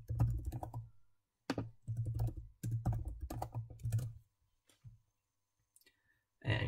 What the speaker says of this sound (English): So I'll just type answer.